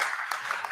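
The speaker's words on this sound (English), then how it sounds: "So applause, facciamo qualche applauso così" Applause from a conference audience at an international conference: dense continuous clapping for under a second, close and fairly loud, with no talking over it.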